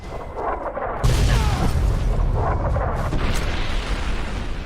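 Heavy artillery fire and explosions roll in as a dense, continuous rumble that swells sharply after a moment and stays loud, with layered booms and blasts blending together.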